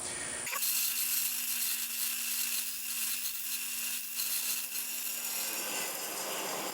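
Piston ring for an LS3 stroker engine being ground on a bench grinder, a continuous close hissing scrape over a steady motor hum, with no talking.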